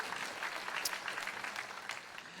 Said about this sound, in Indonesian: kita tepuk tangan yang paling meriah